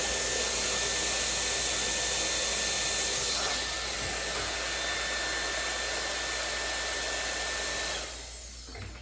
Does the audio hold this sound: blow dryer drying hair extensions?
yes